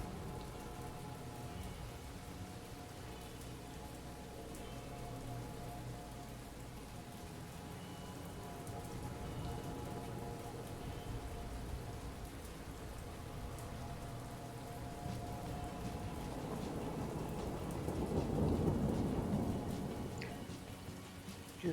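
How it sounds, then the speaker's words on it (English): Rain and thunder in the video game The Rain Spirit: a soft, steady hiss of rainfall with a low thunder rumble that swells near the end, faint and distant with no voices. "I love me some rain."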